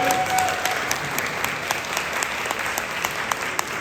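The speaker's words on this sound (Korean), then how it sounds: "큰 박수 부탁드립니다." A seated audience at a commemorative event breaks into dense, sustained applause, many hands clapping evenly throughout with no voices on top.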